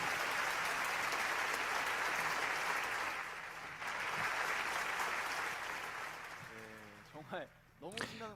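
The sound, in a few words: audience applause after a performance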